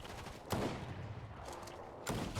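Laser weapon fire in a Fortnite Chapter 5 Season 1 match breaks an enemy's shield: sharp rapid bursts at the start and end with a sustained rattling volley between, close and loud, with no talking.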